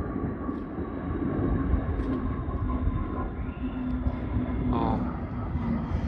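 An aircraft coming in low to land with its landing gear extended, a steady, loud engine drone with a humming tone, heard close and continuous over an open grassy field.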